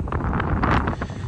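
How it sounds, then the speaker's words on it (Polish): Strong wind buffets the microphone outdoors beside a Solaris Urbino 9LE Electric city bus, a continuous loud rushing roar with gusty swells and no voices. "naprawdę słychać, że dzisiaj solidnie wieje wiatr"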